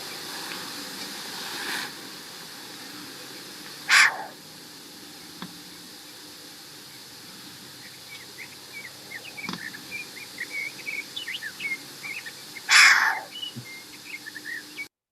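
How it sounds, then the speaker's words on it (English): A short-eared owl gives two harsh, raspy, bark-like calls several seconds apart over a faint hiss, with soft chirps scattered in the background. "let's take a listen to what our short-eared owl sounds like"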